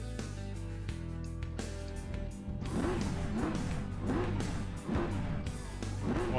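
A simulated BMW M4 GT3 race car engine in rFactor 2 idles with a steady drone, then revs repeatedly in rising and falling swoops, loud and close.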